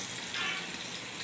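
Fish frying in a pan of hot oil, a steady close crackling sizzle that swells slightly midway and carries on without any talking.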